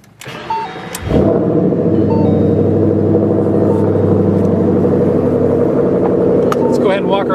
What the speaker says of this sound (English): I'm going to go ahead and start this stage three so you can hear what this car sounds like.